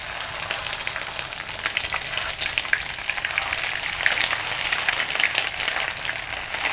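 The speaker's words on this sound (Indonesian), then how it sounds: "Kita lanjutkan goreng yang lainnya." Continuous crackling sizzle of chicken meatballs frying in hot oil, steady and fairly close, with small pops scattered throughout and no talking.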